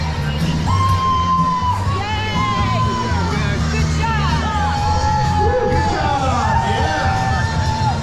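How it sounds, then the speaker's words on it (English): Runners and spectrators at a 5K finish line in The Villages, Florida, cheer, whoop and shout close by in a lively, continuous din, with high excited yells rising over the crowd noise. "They're even cheering for themselves. Making some noise."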